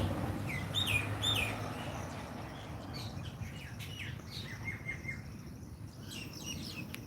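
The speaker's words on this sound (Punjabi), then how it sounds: "ਕੋਇਲਾਂ ਗੀਤ ਸੁਣਾ ਰਹੀਆਂ ਨੇ" Faint Asian koel song with repeated short whistled calls over a quiet outdoor background hum; no talking.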